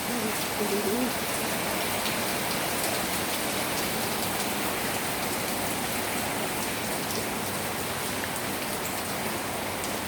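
Heavy rain pours down steadily in Samut Sakhon, a dense, constant hiss of drops striking surfaces close by, loud and unbroken throughout.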